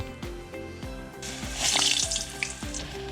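Croquettes sizzle in a hot pan during a dinner cook in a traditional Japanese kominka house, a bright crackling hiss that rises midway over repeated low knocks and clinks, close and without speech.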